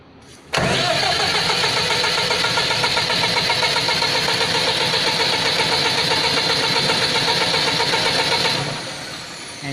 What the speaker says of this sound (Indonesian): engine akan langsung kita start.